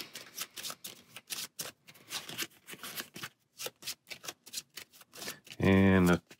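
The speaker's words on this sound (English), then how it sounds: "So we give them a shuffle." A deck of Marvel Champions cards is shuffled by hand in a series of quick crisp riffles and snaps, close up, interleaved with someone talking, ending on a short burst of voice.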